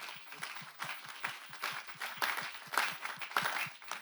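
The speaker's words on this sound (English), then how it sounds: "let's give both of these gentlemen a round of applause" Applause at a city council meeting, a small group clapping with distinct, fairly regular individual claps standing out over a lighter spread of hands, moderately close in a quiet chamber.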